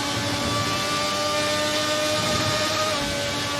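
A Formula RSS 1990 V12 engine in a racing simulation game holds a steady, high-pitched mechanical drone at near-constant revs for the whole stretch, close and continuous with no talking.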